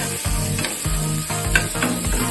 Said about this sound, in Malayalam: അപ്പൊ ഇത് നല്ലോണം ഒന്ന് മുരിഞ്ഞ് ഫ്രൈ ആയിട്ടൊന്ന് വെക്കട്ടോ